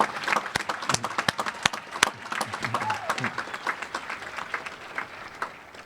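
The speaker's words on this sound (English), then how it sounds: "if we can give them a round of applause and appreciation for all of their hard work and contribution" A high school graduation crowd applauds the parents: dense, loud clapping from many hands with a few cheers mixed in, tapering gradually over several seconds.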